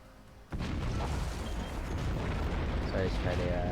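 A howitzer firing in the airship battle game Fortships, one sudden heavy blast followed by a sustained loud roar and rumble, with a voice faintly present.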